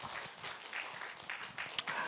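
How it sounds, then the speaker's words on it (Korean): Faint, brief applause from an audience at a lecture on stress management and meditation: a short stretch of scattered clapping, distant and quiet. "이런 쪽에다가 박수."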